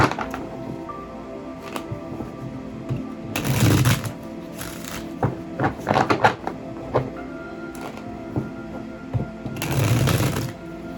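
Bursts of riffling card shuffles, two louder sweeps among scattered softer taps and flicks, close up, with no talking.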